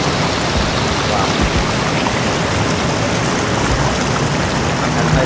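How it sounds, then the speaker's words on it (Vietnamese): Heavy rainstorm in the Truck Simulator Ultimate game, a dense, loud, unbroken hiss of pouring rain that holds steady throughout with no other sounds standing out. "rainstorm mưa tầm tã nha, mưa tầm tã trong cái mùa đông ha"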